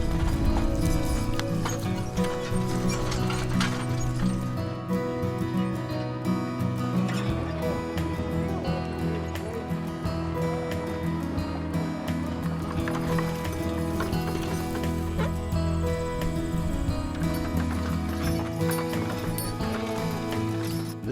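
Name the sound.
horses and horse-drawn wagons on the prairie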